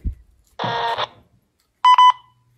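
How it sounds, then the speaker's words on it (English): A short electronic beep pattern: a brief tone burst, a pause, then two quick bright beeps close together, with no talking. "What does that mean, though, that beeping?"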